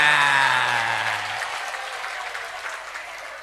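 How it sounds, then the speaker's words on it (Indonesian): A church audience breaks into applause as a speaker's voice trails off, the clapping building into a steady, moderately loud patter that continues alone to the end. "Tepuk tangan untuk perempuan."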